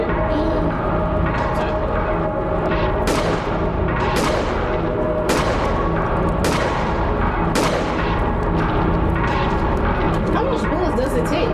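Loud, repeated gunshots from a firearm in The Glass Staircase horror video game, sharp blasts at irregular intervals over a dense, constant background rumble.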